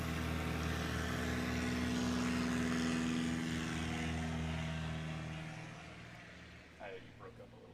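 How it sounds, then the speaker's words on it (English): A STOL aircraft at a Rocky Mountain STOL competition in Pinedale, Wyoming, holds a loud, steady engine and propeller drone on its long takeoff roll, slowly fading as it pulls away, with a commentator talking toward the end. "Brett Kobe on the long takeoff roll."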